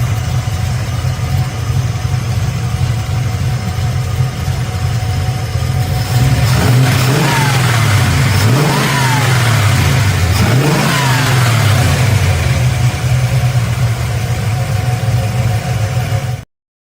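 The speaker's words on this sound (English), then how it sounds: "Small block Chevy with a bunch of power." Small block Chevy V8 car engine with lots of power, loud and close, idling with a rough lope and then revving hard in three or four sharp rising and falling bursts before settling back.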